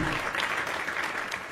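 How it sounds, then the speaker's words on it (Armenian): A studio audience at a televised game show applauding, dense sustained clapping throughout, loud and close. "Եկեք ծափահար։ Ծափարում։"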